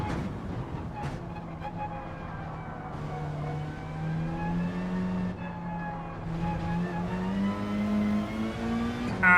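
A race car in Gran Turismo 7 accelerates hard through a European Championship event, its engine note climbing steadily in pitch with a brief gear change near the start, loud and sustained throughout.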